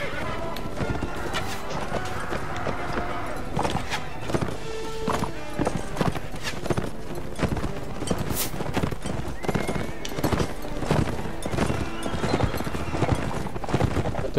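Horse hooves clip-clopping at a gallop in the video game Mount & Blade: Warband, a loud rapid irregular drumming of hoofbeats with occasional clatter and faint whinny-like sounds throughout.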